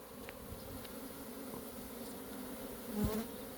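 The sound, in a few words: honeybees flying around hives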